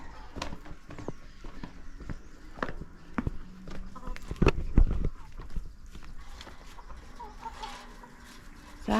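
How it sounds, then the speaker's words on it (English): Farm chickens and a rooster cluck and call around a yard during morning chores, with scattered footsteps and knocks, moderately close, one loud burst partway through and light background noise. "Here's the rooster."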